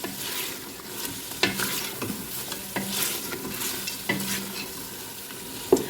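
Mutton and spices stir-fried in a pot for an aloo gosht curry, a steady sizzle broken by several sharp scraping knocks of a spoon against the pot, close and moderately loud, with no talking.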